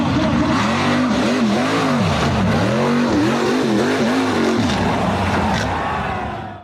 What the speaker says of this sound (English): off-road vehicle accelerated up a rugged, slippery, rocky hill